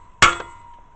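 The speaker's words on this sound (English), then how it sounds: "I actually broke that bolt off, guys. I sheared that bolt." A single sharp metallic snap as a bolt shears off a garden hose connector, one bright crack followed by a short ringing tail and a quieter second tick.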